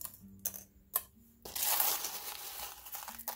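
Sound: glass pieces being layered on kiln paper

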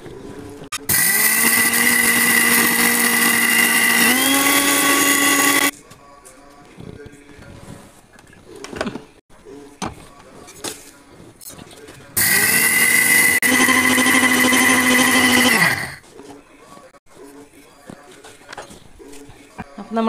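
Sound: mixer grinding roasted rice

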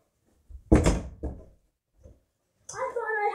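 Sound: door closing

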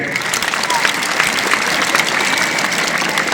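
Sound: children clapping, applause

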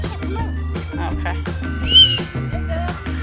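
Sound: whistle being blown

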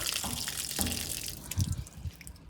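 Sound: filling bottles with running water

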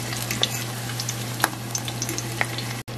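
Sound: cod fish fritters (bacalaito) frying in a pan

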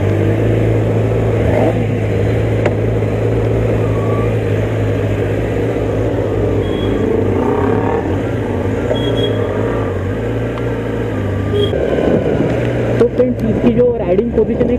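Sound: Kawasaki ZX10R 2020 superbike exhaust revving

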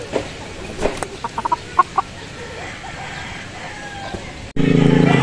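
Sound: Golden Boy pumpkin sweater gamecock clucking

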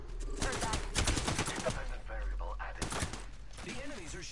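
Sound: enemies shooting guns in a video game

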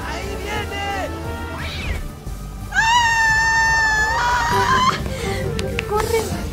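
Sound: cat meowing in a movie kitchen scene

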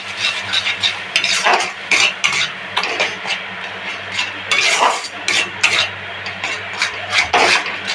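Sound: stirring mashed bhorta with green chillies in pan

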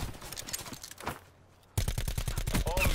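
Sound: sniper gunfire in video game Call of Duty Blackout

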